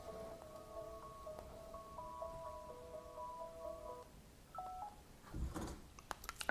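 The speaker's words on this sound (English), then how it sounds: "Sorry, I think my phone's ringing." A phone rings with steady repeating electronic tones over soft background hiss, followed by a brief handling bump near the end; no one speaks.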